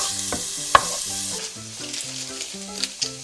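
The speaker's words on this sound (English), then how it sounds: "this is just the onions and the garlic, just frying off with a little bit of olive oil" Onions and garlic frying in olive oil, a steady loud sizzle with crackles and spatters throughout and no voices.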